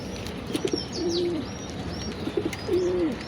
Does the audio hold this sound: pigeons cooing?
yes